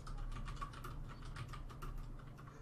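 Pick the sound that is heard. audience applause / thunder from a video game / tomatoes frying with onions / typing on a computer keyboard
typing on a computer keyboard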